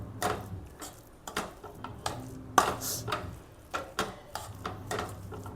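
Jackfruit preserve and coconut sautéing in a pan for ragi leaf ada, with irregular spoon scrapes and stirring clatter against the pan, moderately close and without talk.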